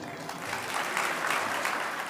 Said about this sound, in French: Monsieur Jean-Claude Brou, sous vos applaudissements.